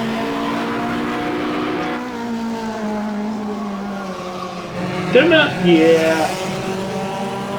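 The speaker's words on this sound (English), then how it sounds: "the proper way to drive a Lotus Cortina is four-wheel drift this thing the entire way" A Lotus Cortina race car drifts in rFactor, its engine droning steadily as the pitch shifts, then tires squeal briefly near the end; someone says a word over it.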